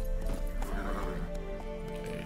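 Horse Roach neighing in The Witcher 3, a close, loud whinny with hooves clip-clopping beneath it, heard alone with no talk over it.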